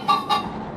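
Chickens in the Minecraft Story Mode video game giving two quick honking clucks, close and clear with nothing else around them.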